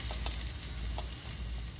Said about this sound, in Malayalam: ഞാൻ ഈ എണ്ണ ചൂടായി കഴിഞ്ഞു. അപ്പോൾ ഞാൻ ചെറിയ ഉള്ളിനെ ഞാൻ ഇതിലേക്ക് ഇട്ടിട്ട് നന്നായിട്ട് വഴച്ചു.